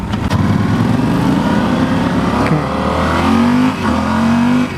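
A 2016 Yamaha Super Tenere XT1200Z motorcycle engine in touring mode, revving steadily and loudly at close range, with pitch rising in several swells between throttle blips.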